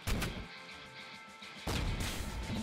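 A heavy blast goes off, followed by a sustained roaring rush, then a second loud burst and roar: a mini flame cannon firing in the video game Nuclear Throne.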